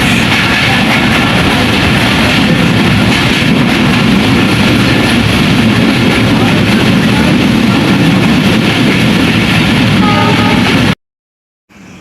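A passenger train running at night between Khulna and Jessore makes a loud, continuous interior rumble and rattle of wheels on track. The sound cuts to near silence just before the end.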